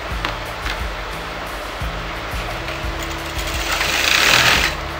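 A sewing machine runs steadily as it stitches over fabric pleats on a circle-skirt lehenga, a continuous mechanical whirr with small rhythmic ticks that swells slightly toward the end.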